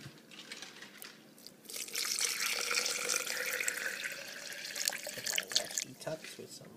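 Water runs from a tap into a shaker cup in a steady splashing stream, moderately close, with a few faint clinks around it.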